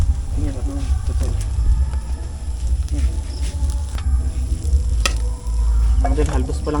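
Food sautéing in a pan makes a loud, continuous sizzle with scraping stir strokes. People talk over it throughout.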